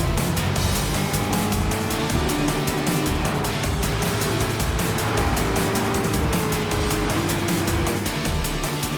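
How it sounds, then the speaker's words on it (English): Camaro and Corvette race cars in a GM Grand Masters race roar past continuously, dense engine noise with rising and falling revs and faint tire noise, loud and steady throughout. "Camaro versus Camaro, and then Corvette versus Corvette ahead of that."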